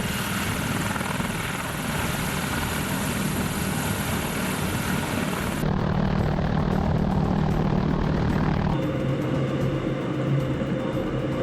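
A Russian military helicopter flies during an attack, its steady rotor and turbine roar loud and constant throughout, with the character of the noise shifting partway through.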